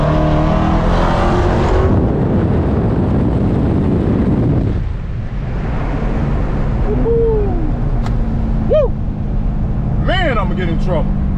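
A Dodge Hellcat with its mid muffler deleted roars loudly up close under hard acceleration, the engine rising through several upshifts, while people talk over it.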